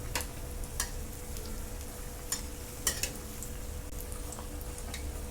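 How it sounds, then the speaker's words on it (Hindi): Bread pakoda deep frying in oil over a medium flame gives a soft, steady sizzle with scattered faint pops and ticks throughout, heard alone. "अब इसको 2-3 मिनट मीडियम फ्लेम पर डीप फ्राई करना है।"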